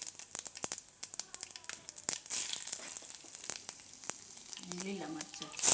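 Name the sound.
cumin, bay leaf and green chillies sizzling in hot oil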